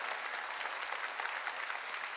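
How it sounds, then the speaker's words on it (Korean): A church congregation at a summer mountain revival meeting applauds, a steady wash of many hands clapping at moderate distance with no speech over it. "깨달은 사람만 박수 쳐요."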